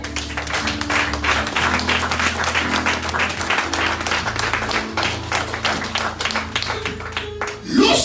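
A church congregation applauding with steady clapping throughout, layered with sustained organ or keyboard chords and faint voices.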